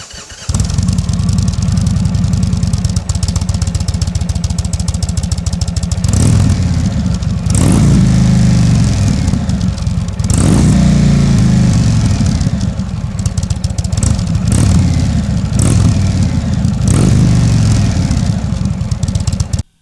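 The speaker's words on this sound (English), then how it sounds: "I guess you guys want to hear how this motorcycle sounds" An Indian Chieftain Dark Horse cruiser motorcycle engine runs loud and close for the whole stretch, a deep lumpy idle with several throttle blips rising and falling.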